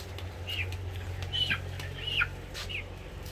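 A hen on a poultry farm gives a few short, high clucking calls over a constant low machine hum and background noise, and no one speaks.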